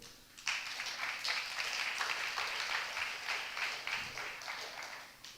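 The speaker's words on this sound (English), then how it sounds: "a round of applause" An audience at a pediatric innovation event applauds after a presentation, steady crowd clapping rising quickly and holding for several seconds, moderately distant in a hall.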